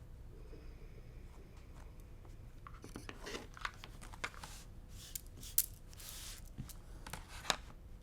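Scissors trim a quilt block's fabric edges in a few soft, separate snips and rustles, some sharper than others, close but quiet over a low background hum with no talking.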